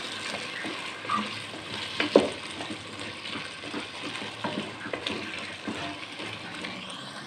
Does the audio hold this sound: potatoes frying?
yes